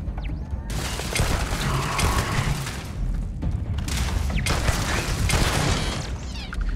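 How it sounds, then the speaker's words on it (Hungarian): Stun weapon firing repeatedly in the space game Starfield, a dense run of sharp bursts and mechanical clatter over a steady noisy bed, loud and continuous for several seconds. "Szóval ez egy stun weapon."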